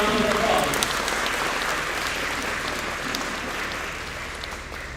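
An audience applauds graduates of a middle school Rufqa program at an IACC Taqwa graduation ceremony, steady dense clapping of a large crowd that holds throughout and fades slightly toward the end.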